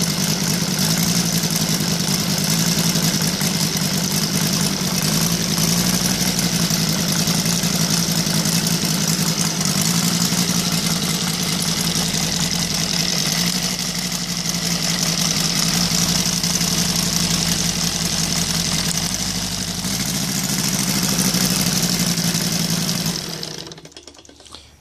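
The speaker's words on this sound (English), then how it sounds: "This is the OS Sirius 5 cylinder running on CH ignition 5 cylinder" An OS Sirius five-cylinder radial model engine running on gasoline with CH ignition holds a steady, loud, buzzing idle for over twenty seconds, then is abruptly cut off at the end.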